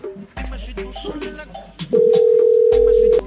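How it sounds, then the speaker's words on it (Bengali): A telephone call tone on a phone call home plays as one steady, loud, continuous tone for more than a second, after a stretch of mixed background noise and faint voices. "দেখে একটু ফোন দিয়ে দেই"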